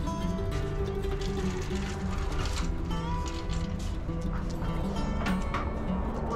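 A portable spot cooler runs on a hot day, giving off a steady, loud droning hum with a faint mechanical rattle that stays constant throughout.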